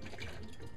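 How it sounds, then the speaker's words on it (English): Distilled water rinsing over veterinary surgical instruments, a steady close splashing wash with no pauses across the short span. "you take the distilled water and you rinse your instruments"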